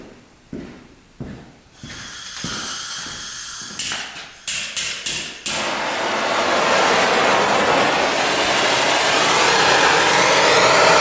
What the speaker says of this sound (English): We've got to heat up the area around here with a torch